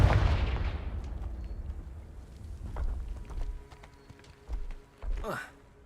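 A Confringo blasting spell in Hogwarts Legacy opens with a loud, booming burst that rolls off. Smaller crackling hits follow, then a sharp rising whoosh near the end.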